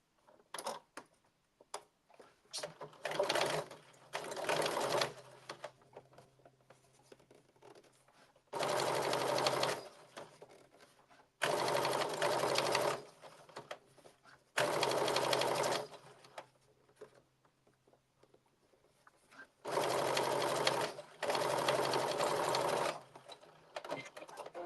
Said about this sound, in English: Stitch it closed 1/8 of an inch from the edge.